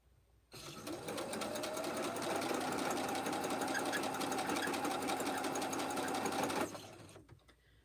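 A sewing machine stitches a Lori's Star quilt block in one continuous, fast, even run of rapid needle clatter close by, starting abruptly and stopping after about six seconds, with no talk.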